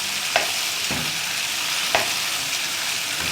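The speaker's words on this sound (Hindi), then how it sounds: "इसको थोड़ा सा फ्राई करते जाएं।" Ginger garlic paste fries in hot oil for a chicken bread roll filling, giving a steady close sizzle broken by a few sharp scrapes as a spoon stirs it.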